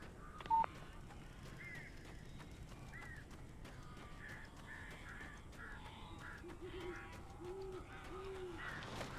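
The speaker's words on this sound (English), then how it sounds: "These birds are weird." Crows caw and pigeon-like birds coo in the Alan Wake video game, scattered calls at moderate distance over a low ambient hum, with one brief sharp tone near the start.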